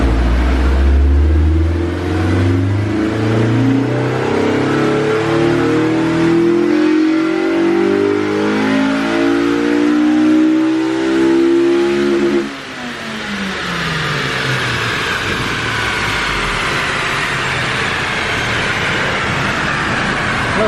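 A Honda S2000 engine on a dyno with a Hondata Flash Pro tune, loud and close, its pitch climbing steadily through a long full-throttle pull, then a sharp change in tone and a sustained high scream to the end.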